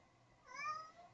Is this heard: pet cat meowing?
yes